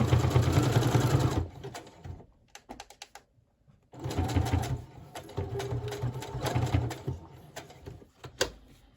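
A sewing machine runs a zigzag stitch on a collage-style journal page in rapid mechanical bursts of clattering needle strokes, stopping and restarting several times with short pauses between, close and alone.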